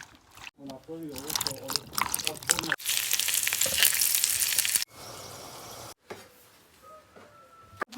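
Meatballs sizzle and crackle in hot oil in a home kitchen in rural Serbia, with a loud frying burst partway through and someone talking over much of the cooking.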